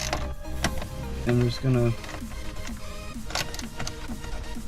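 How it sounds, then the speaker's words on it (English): Bolts are loosened while a car stereo is swapped for a new Dynavin 8 Pro head unit, with quick mechanical ticks and clicks running under a man's speech, plus two short whirring bursts early on. "loosen all these bolts"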